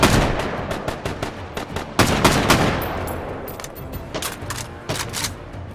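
Repeated gunshots from a gun in the VR shooter Hotdogs, Horseshoes & Hand Grenades during a grill-themed survival wave, sharp close cracks fired in an uneven rapid string with brief gaps, one cluster denser than the rest.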